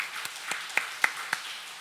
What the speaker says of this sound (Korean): 우리 하나님께 박수.